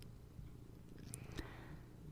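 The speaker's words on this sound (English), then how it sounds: "It's a snow day, so the cat's inside, and looking for a lot of attention." A pet cat purring steadily indoors on a snow day, a soft, continuous low rumble held close to the microphone, with a couple of faint clicks over it.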